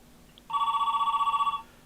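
An American telephone rings, a single electronic warbling trill lasting about a second, loud and close in a quiet room, no talk.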